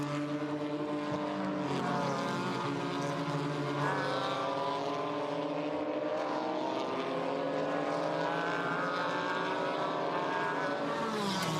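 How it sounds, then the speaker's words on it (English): Several GT4 race cars pass on the Oschersleben circuit during an ADAC GT4 Germany race, their engines overlapping in a continuous rising and falling roar heard from trackside. "Here come the rest of the cars."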